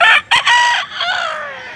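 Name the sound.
chicken at livestock auction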